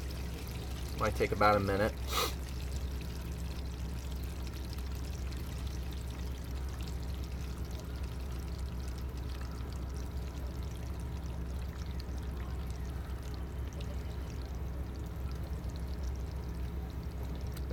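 An RV holding tank drains through its dump hose, water trickling and flowing in a low steady rush near the end of emptying, with a voice briefly near the start.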